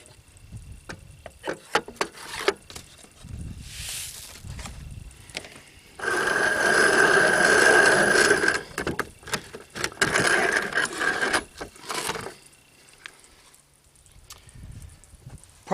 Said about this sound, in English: all you're going to do is just continue to grind up these larger chunks